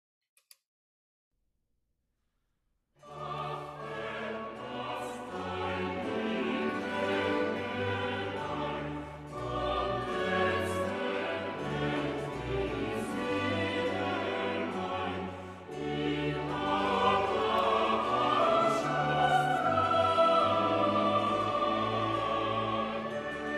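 A choral and orchestral performance of the closing chorale stanza "Ach Herr, lass dein lieb Engelein" from Bach's St. John Passion begins after a few seconds of silence, then continues steadily in full, sustained harmony with no talking.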